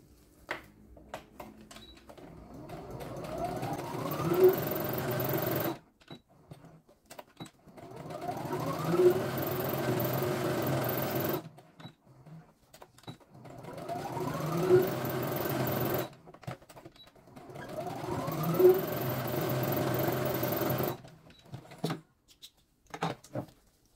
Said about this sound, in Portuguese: Vou novamente passar aqui uma costurinha nas pontinhas,